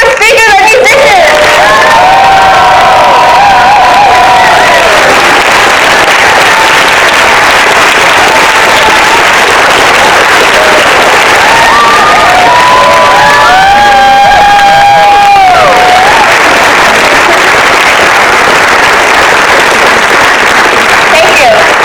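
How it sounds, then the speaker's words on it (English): A large crowd at a climate strike rally applauds and cheers loudly and steadily for the whole stretch, with whoops and shouts rising through the clapping, strongest near the middle. "let's give one more round of applause to all of our speakers and musicians"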